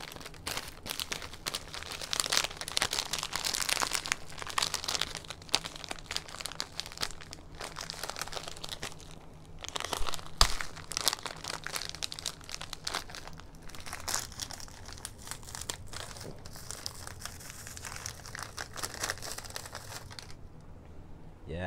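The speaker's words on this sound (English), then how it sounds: "So that cellophane in there sounds crispy" Crisp cellophane packaging crinkles and crackles continuously as it is handled and pulled open to unwrap dirt bike parts, a close, fairly quiet rustle with no talking.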